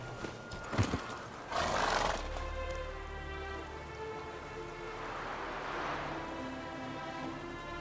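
Geralt's horse Roach from the Witcher 3 video game whinnies loudly and close by, with a few hoof clops near the start, followed by a long, fading tonal neigh.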